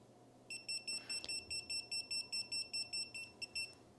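A rapid series of short, high electronic beeps from a Klein non-contact voltage tester in sensitive mode pulses evenly, about a dozen in a row, fairly faint over a quiet hum.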